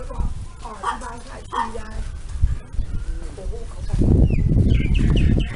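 Several puppies from a litter of about ten whimper and yip close by, with high thin cries, while birds chirp in the background and a person talks over them.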